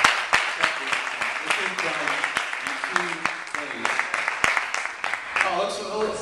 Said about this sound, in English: I'd just like a round of applause to our lead designer.